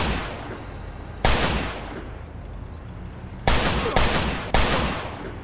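Gunfire in Mafia II, with loud, close bursts of automatic fire arriving in several sustained volleys separated by short lulls, the last three bursts in quick succession.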